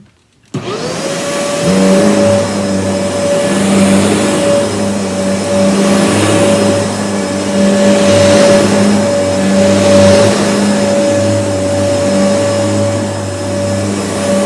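Kenmore upright vacuum cleaner switching on after a brief silence, then a loud, steady motor whine and airflow roar that holds nearly unchanged for the rest of the run.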